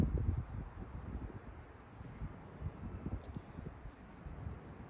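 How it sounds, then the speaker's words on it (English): Gusty wind blows outdoors while fishing, rumbling steadily against the microphone with uneven low buffeting throughout and no voices. "It's pretty windy out"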